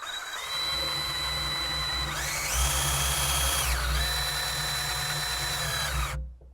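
A power drill spins an engine's oil pump to prime it, whirring steadily with a rising pitch in the middle, then winding down and stopping abruptly.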